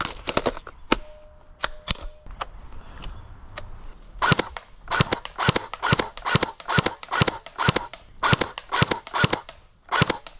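Airsoft rifle run on a 7.4 volt LiPo battery in a rate-of-fire test, a few sharp single shots and then a fast, loud run of crisp reports at roughly ten per second.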